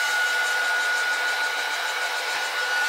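A heat gun blows on painted craft paper, giving a steady, close, continuous airy roar with a thin whine running through it and no speech.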